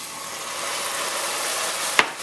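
Wine poured into a pan of minced garlic and rosemary for a swordfish stew, a steady close sizzle that ends in a sharp splash-like burst.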